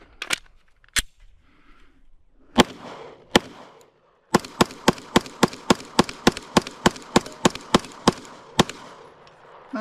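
Glock 17 Gen 6 pistol shots: a few sharp, loud cracks spaced apart, then a fast, steady string of about sixteen shots in quick succession.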